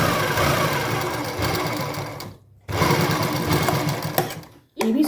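A sewing machine stitches a seam on a kameez in two loud, fast, steady mechanical runs, each stopping abruptly into near silence before the next burst starts.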